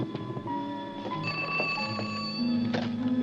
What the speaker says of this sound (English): Will you please answer the phone?